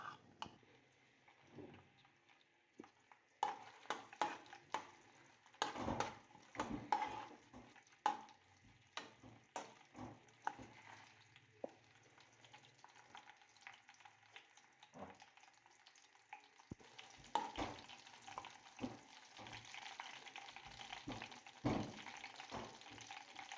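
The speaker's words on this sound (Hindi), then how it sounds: "जीरे को और अदरक को हल्का सा ब्राउन कर लेंगे, जलाना नहीं है ज़्यादा।" Cumin seeds, ginger and green chilli fry in hot oil, a low crackling sizzle broken by sharp clicks and scraping stirs, the spattering growing livelier toward the end.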